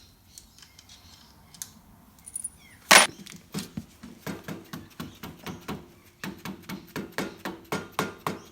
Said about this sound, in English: You just tap the gasket, tap the clutch cover a little bit.